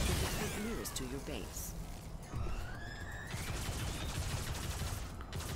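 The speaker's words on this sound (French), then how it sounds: "Tire de couverture, chers amis." Covering fire in the Robocraft robot battle game, a busy mix of rapid weapon shots, whooshing projectiles and whining electronic tones under continuous French speech.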